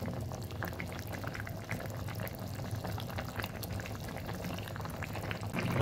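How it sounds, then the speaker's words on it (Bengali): Kabuli chickpeas simmer in a pot of chana masala with slit green chillies, a steady bubbling boil with dense popping close up and no voices throughout. "ছোলাগুলো ফুটে এসেছে"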